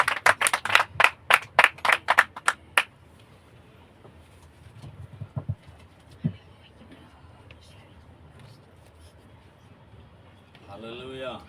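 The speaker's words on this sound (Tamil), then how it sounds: "எல்லாம் கைத்தட்டி நம்ம தேவதாசனை வெல்கம் பண்ணுவோம்" Church congregation at a Sunday service in Kodaikanal clapping together in welcome, a burst of about ten sharp, loud claps close by before the room falls quiet with faint movement and low voices.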